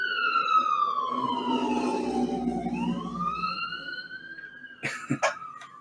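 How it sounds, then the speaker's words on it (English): Emergency vehicle sirens wail outside in Lorain, Ohio, a rising and falling tone sweeping clearly over a low background, followed near the end by a couple of sharp nearby coughs. "That's all you hear in Lorain, Ohio is sirens."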